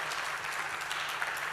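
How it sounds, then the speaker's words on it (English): An audience applauds guests at the close of a talk, a dense, even wash of clapping held at moderate level throughout. "Please give round of applause for my guests."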